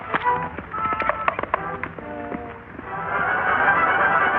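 Silver, the Lone Ranger's horse, being ridden in an old western, heard as a steady clip-clop of hooves under a rising bed of orchestral music.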